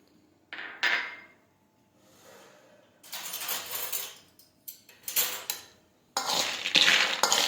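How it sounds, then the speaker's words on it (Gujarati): Peanuts being mixed with lemon juice and spices in a metal bowl, with intermittent scraping and clattering spoon strokes in separate bursts, close and fairly loud, with quiet gaps between them. "હવે આ રીતે આપણે મિક્સ કરી દઈશું દાણાને"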